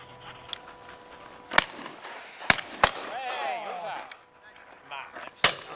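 Shotgun shots at a pheasant and partridge shoot ring out in the open, several sharp cracks spaced irregularly at middle distance, with voices talking faintly between them.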